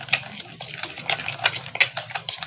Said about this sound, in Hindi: और अब हम इसको अच्छी तरह से फेंटेंगे